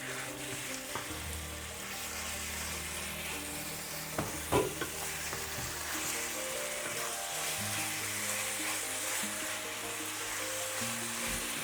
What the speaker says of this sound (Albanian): I hedh mishin e grirë.